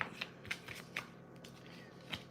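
Tarot cards are shuffled by hand in a quiet room, giving a few soft, brief riffling and snapping bursts spaced irregularly over two seconds, faint and close.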